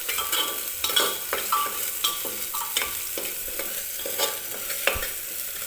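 Green spice paste roasting in hot oil for a drumstick curry, stirred with a spoon that scrapes the pan in steady repeated strokes over a continuous close sizzle, with no voices.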